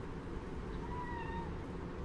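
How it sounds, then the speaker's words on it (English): A single cat meows, faint and drawn out, over a steady low background hum indoors. "Don't know what she's meowing at."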